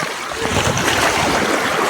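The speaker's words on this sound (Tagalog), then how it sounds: "Lumalaki na yung tubig! Lumalaki na yung tubig!" Ocean waves rising and surging on a beach at Dingalan, Aurora, a continuous broadband wash of surf with wind buffeting the microphone, loud and close throughout.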